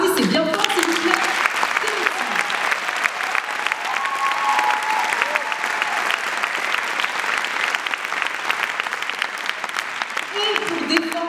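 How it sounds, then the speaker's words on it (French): A live audience at an eloquence battle event claps loudly and steadily for the full length, a dense sustained wave of applause with a few voices calling out over it. "Applaudissez bien fort, s'il vous plaît."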